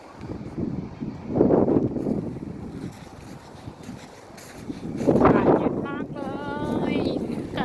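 Wind blows hard outdoors during snowfall in Iceland, roaring in rising and falling gusts against the microphone, with a faint voice near the end.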